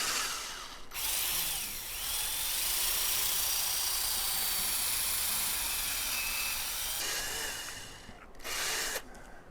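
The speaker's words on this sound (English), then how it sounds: "we're going to drill a hole." A power drill fitted with a step-down bit bores through a plastic lid, a loud steady whine running about seven seconds, then a brief pause and a short second burst as the hole is cleaned up.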